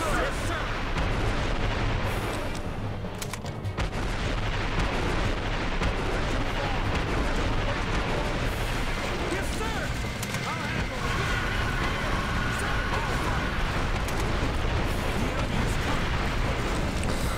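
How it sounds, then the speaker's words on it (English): Rocket launcher blasts and dense battle noise fill the Earth Defense Force 2017 video game, a loud continuous roar of explosions and booming impacts that runs unbroken throughout the clip. "this rocket launcher do have a fairly good blast radius, so it does quite a lot"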